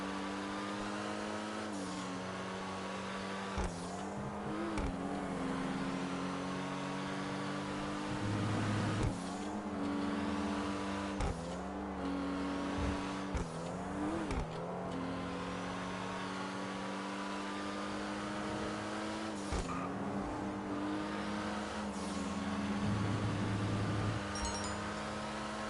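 A car in the video game GTA cruises along a highway with a steady, moderate engine hum and periodic gear shifts and revving surges repeating every few seconds.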